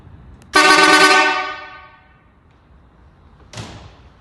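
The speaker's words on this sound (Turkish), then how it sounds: "ve diğer 57 aracımızın salyangoz çaçat kornası" A loud, brassy snail-type horn on a classic car blasts once for about a second and trails off, then a shorter, quieter second honk follows.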